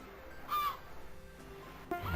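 A loud seagull cry from the video game Pier Solar rings out once, followed by a second squawk just before the end, over a quiet, steady game ambience with no talking.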